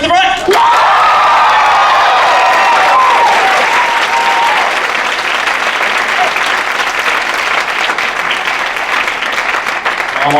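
A comedy show audience claps and cheers loudly, a dense burst of applause with a few whoops that holds steady throughout, close and full.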